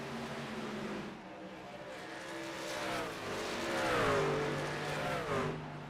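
Race trucks in an SSRL truck series race at Rockingham lapping the track, engine drones rising and falling in pitch as they accelerate and pass, moderately distant and steady throughout.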